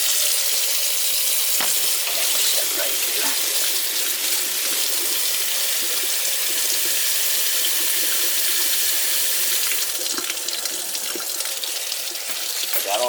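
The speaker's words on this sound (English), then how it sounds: "I'm going to take it over here now to the sink and rinse it off." A sink tap runs in a steady gush while flux is rinsed off a five troy ounce silver bar, the water hissing continuously near the microphone with slight shifts in splash texture.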